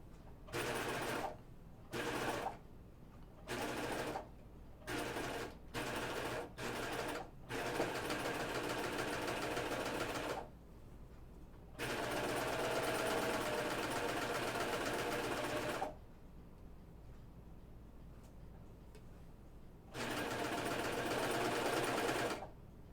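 A sewing machine set to a lengthened stitch runs gathering rows on a Myosotis dress: several short bursts of stitching, then longer sustained runs separated by pauses, close and steady.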